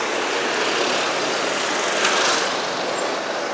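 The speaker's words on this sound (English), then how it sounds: "Lorry." A lorry passes along a road close by, a steady broad engine and tyre rush holding throughout, with a faint high whine near the middle and no talking.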